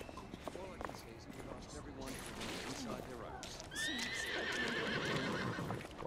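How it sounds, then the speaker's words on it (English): Horses whinny and hooves clip-clop in The Order: 1886 game world, with a loud rising neigh near the middle amid busy ambient clatter and some indistinct voices, holding steady for several seconds. "wow, horses."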